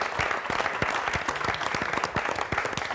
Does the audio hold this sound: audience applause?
yes